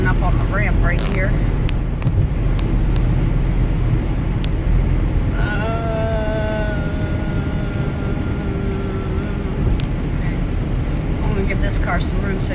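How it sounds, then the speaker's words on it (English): Cars driving up a highway ramp in the rain, a continuous loud road rumble and tire hiss heard from inside a moving vehicle, with a passing engine tone in the middle. "too many cars coming up on the ramp right here"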